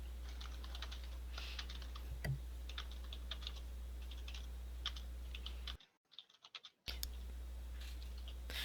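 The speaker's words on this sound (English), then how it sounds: "I'm hearing a lot of typing from your end." Faint keyboard typing comes through voice chat during an online Dungeons & Dragons session, with scattered soft key clicks over a steady low hum and a brief dropout of the line partway through.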